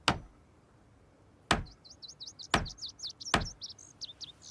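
Bird chirping in the video game Project Zomboid: a rapid series of bright, high warbled chirps repeating over several seconds, interrupted by four loud sharp knock-like clicks, with no talking.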